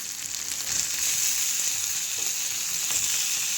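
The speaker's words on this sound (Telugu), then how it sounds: "ఇప్పుడు టమాటాలు వేయాలి." Tomatoes frying in a pan with onion and ginger paste, a steady bright sizzle with a few faint stirring scrapes, close and without talking.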